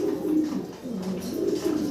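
Pigeons kept for sale at a seller's place coo in low, throaty, rolling calls that repeat in overlapping pulses, close by and fairly loud.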